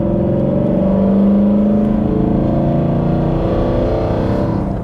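A BMW E92 M3 with a newly built engine holds a steady, loud rev near 4,000 RPM, a continuous deep drone with a rising hum partway through and a slight tail-off at the end, no voices.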